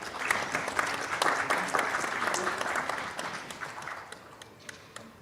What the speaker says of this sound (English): Let's have a nice warm round of applause